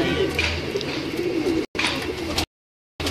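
Prize-winning pigeons in a Lahore fancier's loft coo and rumble close by, low throaty calls running continuously with a brief gap midway and a pause near the end.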